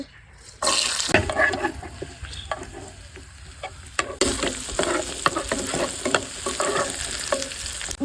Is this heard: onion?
yes